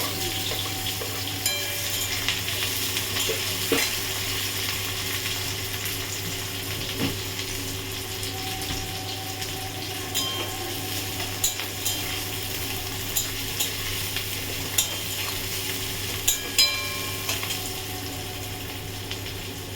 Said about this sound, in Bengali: পেঁয়াজটা ভাজা করে ফিরছি